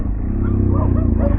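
Small dogs yap in a small Mexican town: a few short, high barks over a steady, loud motor rumble from a motorcycle with a sidecar, all within a brief moment.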